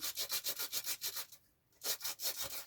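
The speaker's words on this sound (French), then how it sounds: "Cette poignée ergonomique, c'est vraiment l'idéal pour pouvoir poncer les arrières de nos réalisations" Edges are sanded by hand with an ergonomic sanding handle, giving rhythmic back-and-forth rasping strokes, a brief pause, then several more close, even strokes.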